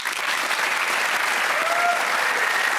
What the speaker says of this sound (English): Big round of applause for Matt.